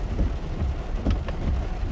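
Steady rain falls outdoors as a dense, even hiss with a low rumble beneath, constant and fairly loud with no voices.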